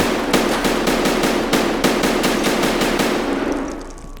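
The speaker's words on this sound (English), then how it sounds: "Just hitting me with those shotguns, or what is going on?" Rapid gunfire in Escape From Tarkov, a loud close burst of repeated sharp shots in quick rhythm with short gaps, tailing off toward the end, no voices.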